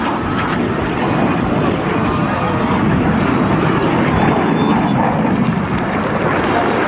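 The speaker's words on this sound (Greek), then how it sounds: "Σας τα 9 αεροπλάνα ανοίγουν για την μπόμπα!" Frecce Tricolori aerobatic jets roaring overhead in formation at an air show in Tanagra, a loud continuous engine rumble and wind noise that fills the whole stretch without letting up.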